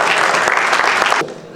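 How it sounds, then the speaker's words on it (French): Audience applause for a mentor at a hotel and tourism industry skills event, loud dense clapping from a crowd that fills most of the moment before dropping away abruptly near the end. "Il faut l'applaudir."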